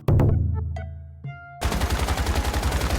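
Automatic weapon fire in the survival shooter Once Human, beginning after a few resonant metallic tones and then a sustained rapid burst of shots, loud and close with no talking.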